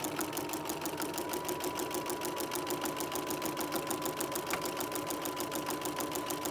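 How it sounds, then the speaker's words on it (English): A sewing machine with a walking foot stitching in the ditch through three layers of quilt, a fast even rhythmic chatter that runs steadily from start to finish, close up with no voices. "I'm simply going to sew along the ditch, all the way along."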